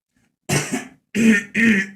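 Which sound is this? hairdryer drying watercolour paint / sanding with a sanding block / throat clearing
throat clearing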